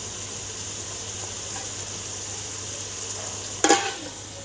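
Onions fry in a pan with a steady, close sizzle. A brief metallic clank comes near the end, and no one talks.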